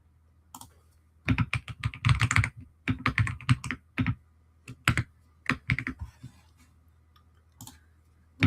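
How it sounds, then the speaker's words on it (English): Rapid clicky keystrokes come in uneven bursts with short pauses between, close and crisp against a quiet background. "Then when you're typing away, you can hear it."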